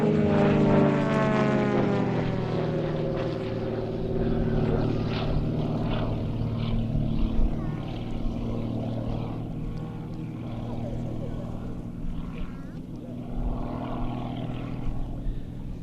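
A large model aircraft of nearly three metres span, built by Krill in Global Stars team livery, drones steadily overhead at an airshow, its propeller tone fading slightly from loud to moderate, with a commentator's voice over it.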